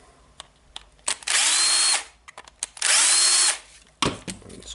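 A power tool unscrewing screws from a Makita 9565CVR corded angle grinder: two loud, close whirring bursts of about a second each, with scattered clicks and handling noises between them.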